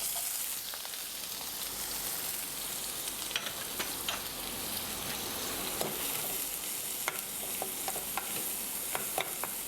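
A quarter kilo of chopped large onions fries golden in two spoons of oil in a kadai for Gobi Manchurian gravy, a soft steady sizzle with scattered small crackles and occasional stirring clinks, fairly quiet throughout.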